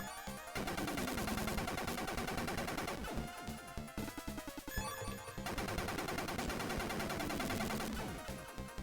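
Rapid bursts of synthesized gunfire from the video game SD Snatcher as an enemy is shot, dense crackling volleys that pause briefly midway before resuming at full intensity.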